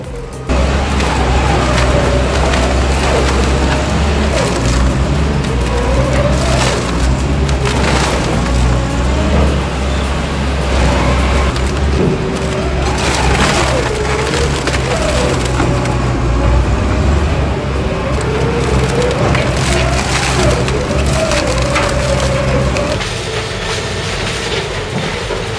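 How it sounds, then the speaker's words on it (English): Tyrant wood shredder at a Haas system grinding wood waste and cleaning out metal: a loud, continuous heavy mechanical roar with rumbling, churning surges throughout, no voices. "It takes unwanted wood waste, runs it through the mighty Tyrant shredder, cleans out the metal, and sizes it perfectly"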